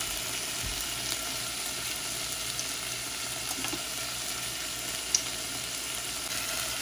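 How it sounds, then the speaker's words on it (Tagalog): Canned tuna flakes fry in a pan with sautéed garlic, onion and tomato, giving a steady, close sizzle with a faint stirring clink and no voices. "Yan, ginisa ko yung bawang, sibuyas at kamatis. Tapos ilalagay ko na yung tuna, guys."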